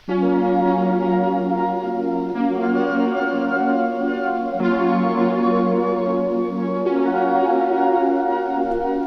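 A synth sample playing a beautiful chord progression, forward rather than reversed and run through plugins, holds sustained, rich harmonic chords that shift every couple of seconds, loud and alone.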